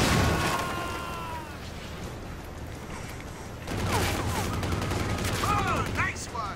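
Gunfire in the shooter video game Stranglehold: rapid bursts of game shots and impacts over a dense, noisy action soundtrack, continuous and fairly loud throughout.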